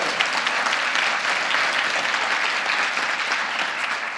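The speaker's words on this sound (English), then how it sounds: "Let's give her a big applause," An audience claps steadily and loudly at a campus talk by Dolores Huerta at Cal State Bakersfield, the applause sustained and even with no voices over it.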